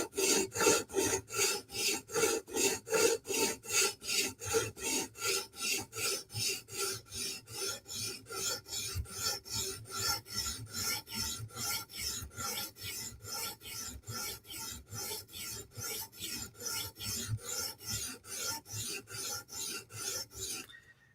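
A Spyderco Military 2 blade of 15V steel is reprofiled at the heel on a sharpening stone, giving steady, rhythmic rasping strokes about two per second, close and fairly loud, continuing alone without talk.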